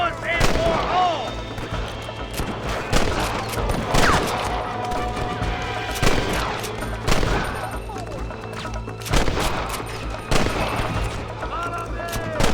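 Rapid gunfire from a Red Dead Redemption shootout at Pike's Basin, with repeated sharp shots and bursts across the clip mixed with shouting voices and game ambience.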